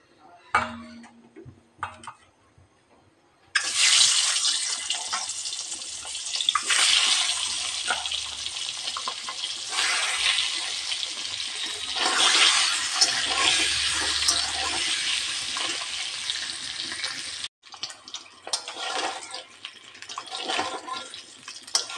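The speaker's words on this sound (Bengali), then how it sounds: "এখন এতে ডিমগুলো ভেজে নেব।" Boiled eggs go into hot oil in a wok with a sudden loud burst of sizzling, then a sustained, fluctuating fry that keeps going for about fourteen seconds before it drops off abruptly.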